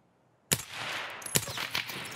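Suppressed SVD rifle fire in Escape From Tarkov on Shoreline: a sudden sharp crack after silence, followed by a rattling sequence of further muffled shots and echoing impacts.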